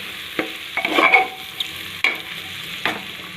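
Turmeric is stirred into frying pulao ingredients: soft sizzle beneath several distinct spoon scrapes and knocks against the pot, spaced irregularly, close and moderately loud.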